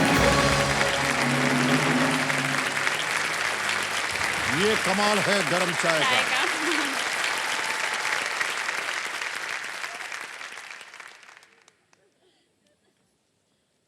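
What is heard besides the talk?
studio audience clapping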